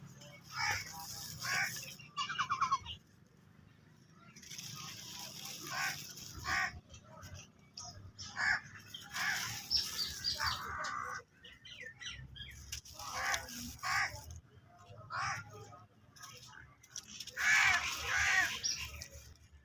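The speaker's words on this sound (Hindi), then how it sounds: "ये कौवा नहीं चुप करता" A crow caws over and over outdoors, harsh calls repeating at a steady pace through the whole stretch amid scattered nearby rustling and crunching noises.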